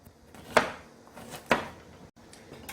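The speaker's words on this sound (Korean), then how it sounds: "이렇게 촘촘하게 이렇게 썰어 주세요" A knife finely slicing vegetables on a board, two distinct sharp chops about a second apart and then a fainter third, close and quiet in a still room.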